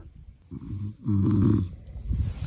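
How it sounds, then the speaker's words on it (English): Two people snoring inside a tent at night during a desert rally stage, heavy rumbling breaths rising and falling close by, alone without talk. "I'm in the middle of 2 snoring people."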